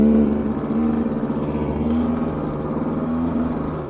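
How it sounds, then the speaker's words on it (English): A two-stroke engine on a 2022 Rieju MR 300 Pro dirt bike drones close and loud while riding, a steady mid-pitched buzz with slight rhythmic pulsing and no voices over it. "And yes, you can hear the two-stroke."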